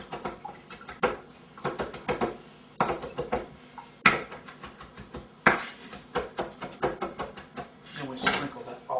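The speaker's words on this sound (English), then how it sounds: "And we chop up the fresh parsley." Fresh parsley chopped with a knife on a cutting board: a close series of sharp, uneven chops coming in quick bursts with short pauses between them.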